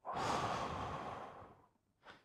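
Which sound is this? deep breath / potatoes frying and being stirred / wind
deep breath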